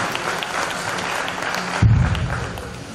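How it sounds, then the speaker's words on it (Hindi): Thunderous applause from a large audience at a Hindustan comedy poetry gathering in a Hazaribagh auditorium, dense and sustained throughout, swelling louder near the end with a heavier low rumble. "जो घनघोर तालियां बजाई हैं"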